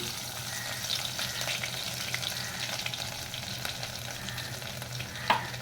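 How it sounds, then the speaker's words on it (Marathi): Ginger-garlic paste drops into hot oil for a village-style chicken rassa and fries with a constant crackling sizzle and stirring, moderately quiet, with one sharp utensil clink near the end. "त्याच्यामध्ये मी ही जी पेस्ट केली आलं आणि लसूणची, ही पेस्ट टाकते मी सगळी"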